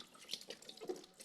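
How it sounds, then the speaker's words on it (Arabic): Tap water runs over eggplants being washed one by one to rinse off sand and dirt, a faint, soft splashing trickle with small uneven bursts as the vegetables are turned under the stream. "نغسل البدنجان واحده واحده، بيبقى عليها رمله كده وترابه"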